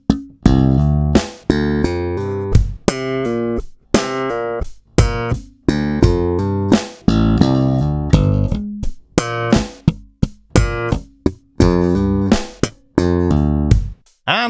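Slap bass guitar running through bars 5, 6 and 7 of a groove in one take, with a steady stream of snappy slapped and popped notes and short gaps, close and loud with no talking.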